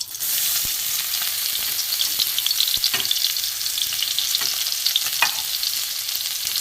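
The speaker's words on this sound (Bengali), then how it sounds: "কড়ায় তেল দিয়ে দিয়েছি, এখানে আমি পেঁয়াজ কুচি দেবো।" Chopped onion frying in hot oil in a wok during the making of a spicy small-fish curry, a steady close sizzle with occasional sharper crackles and spatters, no voices.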